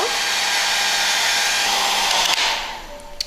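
A hair dryer blows steadily to dry damp tulle during the restoration of an antique Touraine bonnet, a loud continuous whoosh that cuts off near the end, leaving brief quiet.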